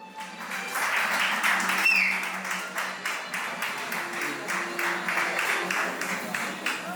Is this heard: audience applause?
yes